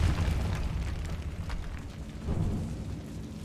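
Depulso force spell in the video game Hogwarts Legacy, a booming low blast with a second swell of rumble midway, fading into a dull roar over a few seconds.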